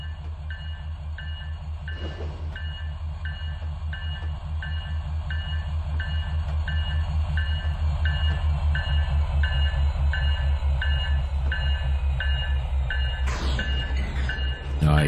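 A train in the Trainz 2019 simulator rolls up and couples to a tanker car, giving a steady low rumble of rolling stock with a clank near the start and a sharper metallic clunk of the coupling near the end.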